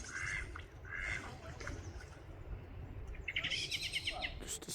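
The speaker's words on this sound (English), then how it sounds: "the geese are all here again." Geese give repeated honking calls in two bursts from a short distance outdoors, over a steady low rumble of wind or ambient noise with faint birdsong in the background.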